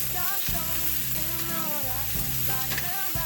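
Onions for Philly cheesesteak sizzle in a pan while being stirred, a steady close frying hiss with low clattering of the utensil and a faint tonal hum running through, no talking.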